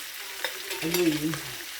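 Sweet and sour sauce with pineapple poured over fish in a sizzling pan, a short burst of bubbling and frying with a brief tonal squeak from the pan.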